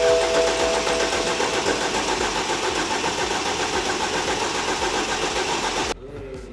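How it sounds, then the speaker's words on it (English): A BMW F25 X3 engine cranks on its starter for about six seconds, a rapid rhythmic churning that stops abruptly, leaving near silence. "we're going to see how the engine sounds being spun by the starter"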